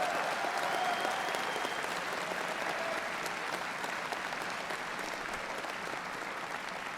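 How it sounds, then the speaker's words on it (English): A conference audience gives sustained, even applause for special guests, a dense wash of clapping heard from within the crowd that tapers slightly toward the end. "Can we get a round of applause for our special guests?"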